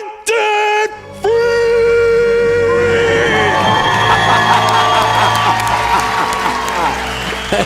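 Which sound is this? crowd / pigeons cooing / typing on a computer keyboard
crowd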